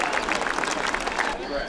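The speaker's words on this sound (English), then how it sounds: "give all the participants in the parade a tremendous round of applause" Crowd applause rings out for participants in the Winifred, Montana centennial parade, a steady wash of outdoor clapping that holds for the whole moment before thinning slightly at the end.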